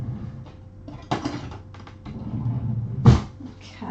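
Cutlery rattles and clinks as a spoon is pulled from a kitchen drawer, with a sharp clatter near the end, set against low kitchen background noise.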